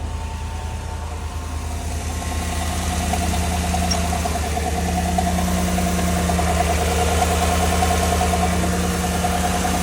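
A car engine that starts with a push button, diagnosed by a mobile mechanic for a leak. The engine runs steadily and loudly up close for the whole stretch, with a droning hum and a low rhythmic churn.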